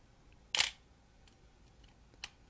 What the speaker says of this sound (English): Now I'm going to click this, and you're going to see the shutter open and close.